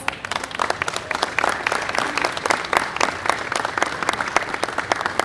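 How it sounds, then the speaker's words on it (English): An outdoor crowd at a Brooklyn Day celebration on a pier applauds a bank partner with dense, lively clapping and a few cheers that hold throughout. "I'd like to give them a nice round of applause."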